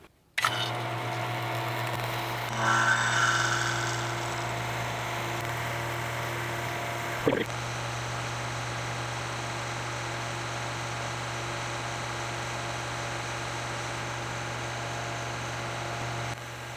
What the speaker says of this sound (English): We're going to turn on our vacuum pump and get us down to 500 microns